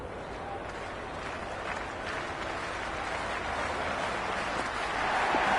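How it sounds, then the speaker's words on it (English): A dense, steady roar of a large cricket stadium crowd in a video game, loud and continuous, swelling slightly toward the end with no clear voices standing out. "this crowd is already making it hard for me to be heard."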